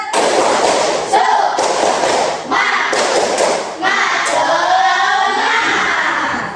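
Students in a classroom do a rhythmic clapping cheer, with loud patterned claps and thumps alongside chanting children's voices.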